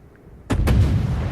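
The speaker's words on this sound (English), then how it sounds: "First rounds in anger, from the guns at least." Warship main guns firing in World of Warships, a sudden loud boom followed almost at once by a second blast, with the heavy rumble rolling on afterward.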